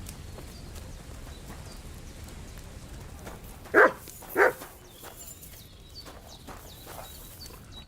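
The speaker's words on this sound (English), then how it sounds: "Silly doggy." A dog in Kingdom Come: Deliverance II gives two sharp, loud barks close by, spaced about half a second apart, over a quiet medieval village ambience with faint hoofbeats and footsteps.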